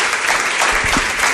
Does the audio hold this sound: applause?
yes